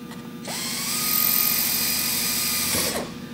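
A power drill boring through a sheet metal workpiece, spinning up to a steady high whine for a couple of seconds, then winding down, close and loud.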